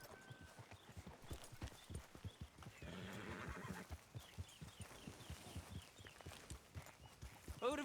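Horses trotting in Red Dead Redemption 2, with rhythmic clip-clop hoofbeats throughout, a burst of rattling hooves midway and a horse whinnying near the end, while a voice talks briefly.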